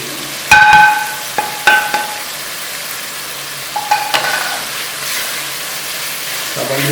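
Beef keema for biryani sizzles in a pan with spices, and several sharp metallic scrapes of a spoon stirring against the pot come in bursts over a steady frying hiss.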